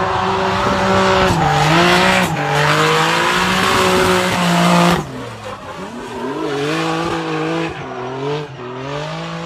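BMW drift car at an RDS Europe drift racing round, engine roaring at high revs with tires squealing, the pitch sliding as it shifts and slides past, loud and continuous with no talk.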